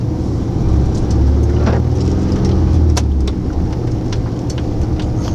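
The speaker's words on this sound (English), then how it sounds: "Hopefully before that car gets here." Low engine rumble of a car nearing on a narrow UK road, heard from inside a truck cab, rising and then easing over a steady drone, with a few faint clicks.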